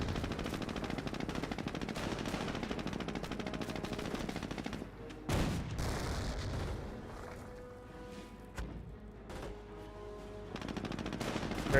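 Company of Heroes battle sounds: dense, rapid machine-gun bursts and rifle fire rattle almost without pause. A heavy boom hits midway, and a few later thuds break up the steady crackle of the fighting.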